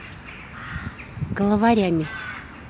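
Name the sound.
crows cawing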